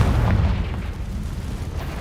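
A Confringo fire spell detonates in Hogwarts Legacy, a loud, deep booming explosion with a rumbling low-end roar that rolls on steadily and fills the moment without any voices.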